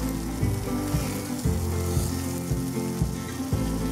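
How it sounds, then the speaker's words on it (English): Lamb chops sear on high heat on a grill or stovetop, giving a steady loud sizzle throughout, with repeated heavier low thumps as the chops shift or are flipped, and no one speaking. "Take it to your grill, or take it to the stove, and sear it on high heat."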